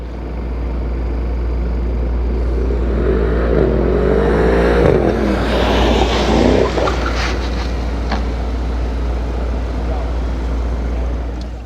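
Mercedes AMG car on a track skid pan, a steady engine drone with a rising rev swell partway through, heard at moderate distance under wind and background noise.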